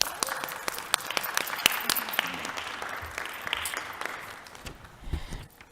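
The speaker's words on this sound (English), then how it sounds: "So round of applause for my team." Audience applause for the Hartford city Human Resources team at a budget hearing: dense, steady clapping from a crowd that holds for several seconds, with a brief swell near the end.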